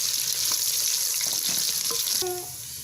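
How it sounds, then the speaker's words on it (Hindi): Small onion frying in a hot pan for a Punjabi-style sarson ka saag, a steady close sizzle with light stirring clicks and no talking. "प्याज को हमने हल्का सा लाइट ब्राउन करना है।"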